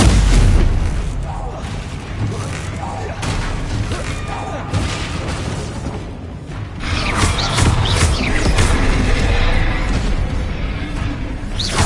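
Repeated Confringo fire spells cast in Hogwarts Legacy combat burst as loud booms and whooshing blasts amid constant clatter and impacts, with a voice calling out over the action.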